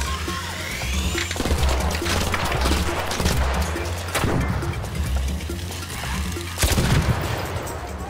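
Bursts of rapid gunfire in the video game Arc Raiders crackle loudly, with several sharp shots and impacts spread across the clip amid other game noise.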